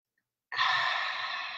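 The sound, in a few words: slow deep breathing exercise, exhale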